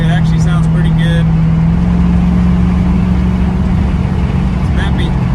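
A 1966 Ford Mustang with a 302 V8, aluminum heads and MSD Atomic EFI runs loud and close with a steady deep rumble, while someone talks over it at the start and end.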